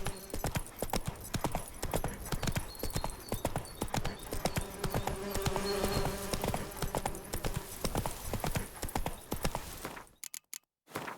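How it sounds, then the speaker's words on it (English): Horse hooves galloping in The Witcher 3 video game, a fast steady clip-clop of hoofbeats running for about ten seconds at close range, then cutting off abruptly into near silence. "Run, Roach."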